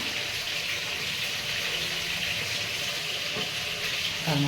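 Tomatoes fry in hot oil in a pan over low heat for tomato rice, giving a steady, close, bright sizzle with faint stirring clinks near the end.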